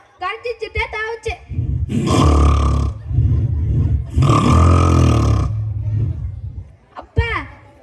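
A human voice imitates a lion roaring, with two long, loud, gravelly roars between short grunting vocal bursts, close up.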